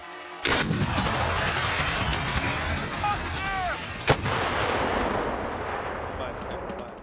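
A 6-tonne heavy artillery gun fires with a loud, booming blast, then a second sharp report follows amid a constant rumbling, noisy background.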